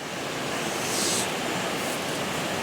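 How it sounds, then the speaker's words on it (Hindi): Rushing water at Amargarh waterfall, a steady broadband roar heard very close and loud throughout, with no talk over it. "तो ये है वाटरफॉल, अमरगढ़ वाटरफॉल।"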